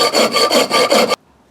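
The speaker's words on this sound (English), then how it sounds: "this half round file just to put a bit of an indentation down here." A half round file worked across a steel axe head, five loud rhythmic rasping strokes close up, then abrupt silence with no voices.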